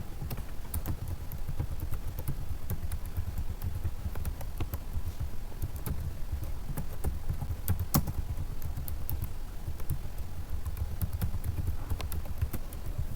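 Lowercase letters a to d typed over and over on a computer keyboard, a steady run of quick, close, crisp key clicks with no pauses.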